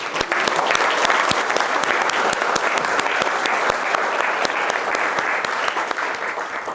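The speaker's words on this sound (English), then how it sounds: "Let's give him an applause." Sustained applause from a lecture audience, dense clapping that stays loud and even throughout.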